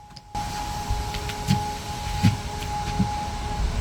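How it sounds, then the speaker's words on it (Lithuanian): A siren in Poland holds a steady, unwavering tone at a distance through the whole stretch, with a few soft thumps and rustles nearby. "Dabar yra sirena."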